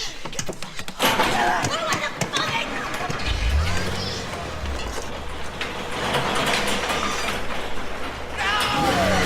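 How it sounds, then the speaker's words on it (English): A garage door rumbles and clanks shut with a low mechanical grind amid a chaotic household scene, with shouting voices and commotion over it. "Garage door! Close it!"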